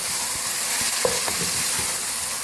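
Mash dal roasts over a high flame in a pan, a close steady sizzle with intermittent soft scrapes and taps of a spoon stirring.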